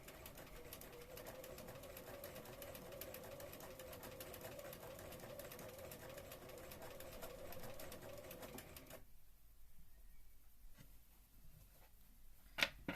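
Sewing machine stitching a Regency dress, a fast steady mechanical whirr of needle strokes for about nine seconds, then stopping into near silence with faint handling clicks.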